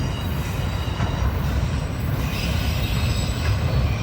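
A heavy CSX freight train rolls past close by, a continuous loud rumble of wagons and wheels on the rails with metallic squeal throughout and no voices.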